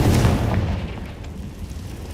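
A Confringo spell blast in a Hogwarts video game: a loud, deep boom right at the start that rolls off into a sustained low rumble for a couple of seconds, with no talking.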